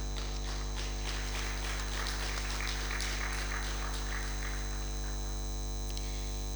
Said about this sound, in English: Let us welcome this endeavor with a round of applause.